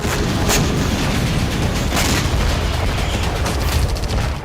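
A loud wartime explosion in the Russia-Ukraine war: a heavy, sustained roaring rumble with no clear pauses, filling the whole stretch.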